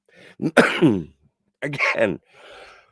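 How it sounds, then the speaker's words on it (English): A person coughs and clears their throat up close in a few short, harsh bursts separated by pauses. A brief spoken word is mixed in. "I apologize for the coughing."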